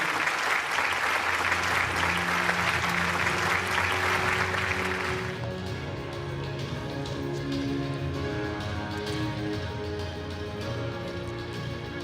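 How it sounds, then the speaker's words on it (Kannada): Loud, dense applause from an award ceremony audience at the Chittara Star Awards, honouring a lifetime achievement winner, swelling for about five seconds, then continuing more softly beneath music. "ಎದ್ದು ನಿಂತು ದಯವಿಟ್ಟು ಎಲ್ಲರೂ ಚಪ್ಪಾಳೆ ಒಟ್ಟಿಗೆ ಗೌರವನ ಸಲ್ಲಿಸಬೇಕು"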